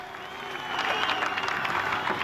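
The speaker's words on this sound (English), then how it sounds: "Don't you love listening to that crowd reception? Still a few boos out there" A motor-racing crowd greets Craig Lowndes after his second-place debut with Ford, applause and cheering building after a quieter opening, dense and sustained with a few scattered boos mixed in.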